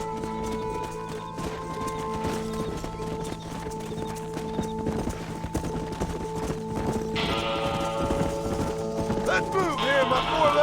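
Horse hooves clip-clop steadily through a herd drive in the Western video game Red Dead Redemption, with occasional whinnies, game music and a busier burst of activity toward the end.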